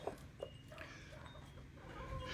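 Backyard flock of five laying hens and one big cockerel, with soft clucks and calls scattered over a steady low outdoor rumble, moderately near.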